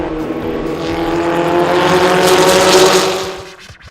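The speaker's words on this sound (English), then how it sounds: "This is a Lotus 69, built in 1972 by Graham Cook from a box of parts from Lotus." A 1972 Lotus 69 race car engine, assembled from a box of Lotus parts, roars loudly and steadily with a rising note, then fades away near the end as it passes.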